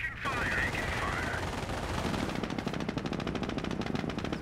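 Rapid machine-gun fire in the World War II strategy game Company of Heroes, Normandy campaign, rattles in dense, rhythmic bursts that grow steadier toward the end, with a voice briefly heard over the opening noise.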